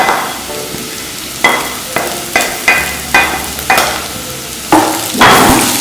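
Onions and rose apple pieces fry in a pan for curry, with repeated scraping stirs over a steady sizzle, the bursts coming in an irregular rhythm, close and fairly loud.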